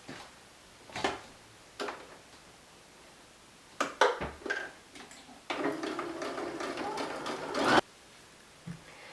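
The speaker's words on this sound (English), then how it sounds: "placing the 2 pieces of fabric right sides together and then sewing down these side seams" Sewing machine running down the side seams of a fabric gift bag, heard close in several short bursts and then one longer steady run.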